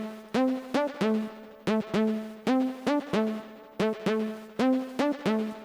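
Plucky melody synth preset from FL Studio's Flex, used in amapiano: a rhythmic pattern of short bright chord stabs with sharp attacks and quick decays, repeating in a steady syncopated groove, clear and alone.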